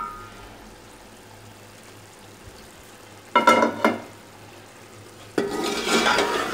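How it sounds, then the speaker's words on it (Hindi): Chicken cooking in a pot for a pulao biryani, with two short bursts of stirring and spoon clatter midway, then a louder steady sizzle as the cooking picks up. "अब चिकन को पकते हुए 15 मिनट्स हो गए हैं।"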